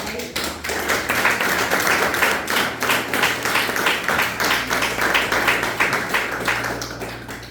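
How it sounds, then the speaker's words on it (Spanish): A church congregation gives a loud round of applause, a fast, dense patter of many hands that keeps up for several seconds, with voices calling out beneath it and a low steady hum under everything. "Denle un fuerte aplauso"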